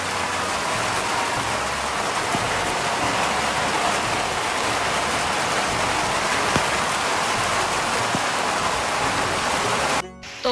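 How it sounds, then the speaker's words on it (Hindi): Heavy afternoon rain pours down in a rural village, a loud, dense and unbroken hiss of drops striking surfaces nearby, cutting off abruptly at the very end. "तो गाइस, इतनी तेज़ बारिश हो गई है।"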